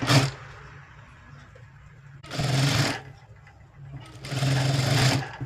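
A sewing machine whirs in three steady bursts while topstitching around a blouse neckline, each run humming loudly up close with quieter pauses between.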